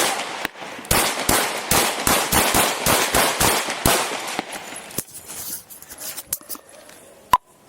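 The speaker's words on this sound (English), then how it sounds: "Shots fired." During a police bodycam encounter, a loud, rapid volley of about a dozen close gunshots cracks in quick succession, followed by a few scattered shots and clatter.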